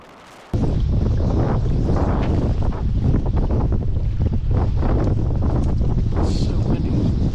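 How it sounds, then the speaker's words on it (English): Strong wind over a lake during a bass fishing tournament buffets the microphone in a constant loud roar, with water sloshing underneath and no clear talk. "So windy."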